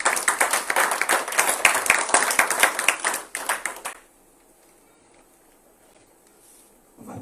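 Church congregation at a Sunday service clapping to acclaim the Lord, dense rapid applause for about four seconds that cuts off abruptly into near silence.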